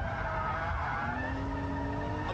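A car drifting through a corner under hard throttle, its tires skidding and squealing in a sustained, loud screech with engine roar beneath, a rising squeal tone holding through the second half.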